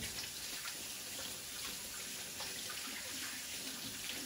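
Tap water running into a kitchen sink while food is rinsed for lamb meatballs, a steady close splashing hiss that continues without break, no talking.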